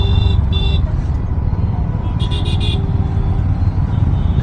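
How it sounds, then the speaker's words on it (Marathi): City traffic in Pune: a loud, steady roar of engines and road noise, with two bursts of car horns honking nearby, recorded while riding a motorbike. "हे बघा कशी आहे ट्रॅफिक."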